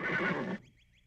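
A single horse whinny, loud and close, lasting about half a second before it cuts off, followed by faint quiet. No talking.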